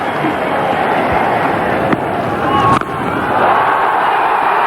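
Cricket stadium crowd roaring and cheering a big hit by Afridi, a dense, steady wall of noise with scattered whistles and shouts, loud and sustained throughout.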